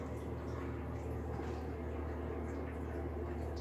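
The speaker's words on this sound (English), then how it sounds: "There, you can hear the fan." Steady ventilation fan in a washroom, running alone as a constant low broadband hum and whoosh with no change in pitch or level.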